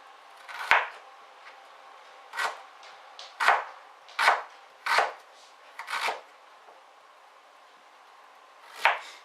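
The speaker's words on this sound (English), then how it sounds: "we're going to chop this up fairly fine" Ginger being chopped finely with a knife on a board for a jerk chicken marinade: seven sharp, irregular knife strikes spaced over several seconds, close and clear with no talk.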